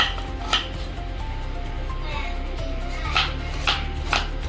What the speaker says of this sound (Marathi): तर मी घेतलेला आहे कांदा, तो मगाशी अर्धा राहिलेला आणि हा एक पूर्ण असं कापून घेते